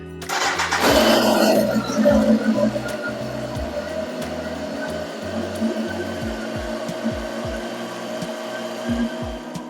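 A Kawasaki ZX10R motorcycle engine starts with a loud rev, then settles into a steady warm-up idle with a rhythmic low putter continuing throughout.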